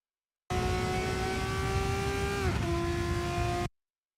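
A Formula 3 race car's engine at Hockenheimring in a racing video game holds a steady loud drone in fifth gear, then its pitch dips sharply as the throttle is feathered before settling at a lower, continuous tone.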